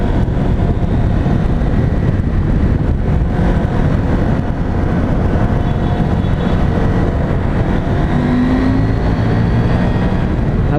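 A KTM 790 Adventure R motorcycle engine drones loud and close while riding through a forest, a steady low rumble with wind and road noise and slight changes in revs, no talking.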